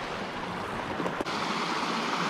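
Small rapids on a Maine brook tumble and rush in a steady, dense broadband roar, close and loud and unbroken, with no voices over the flowing water.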